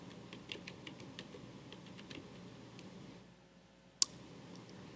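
Light typing on a computer keyboard: scattered soft key taps for about three seconds, a short quiet gap, then one sharp click, all faint and close with no talk.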